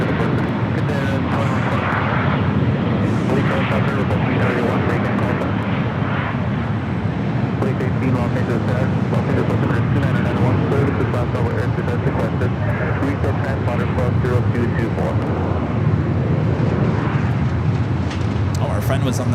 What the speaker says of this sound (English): Next arrival here on the north side is JetBlue, flight 1573, coming from Newark. It's an A321.